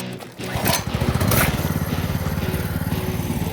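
A homemade four-wheeler built from Home Depot parts revs up on a runway for a speed run, its small engine droning loud and steady with a rapid pulsing rhythm after a brief rise.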